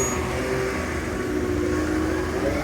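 A car passes on a rain-soaked street in Escondido, California, after a big storm, its engine and tire hiss forming a steady, loud wash of road noise with no talk.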